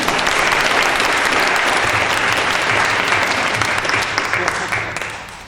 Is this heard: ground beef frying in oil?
no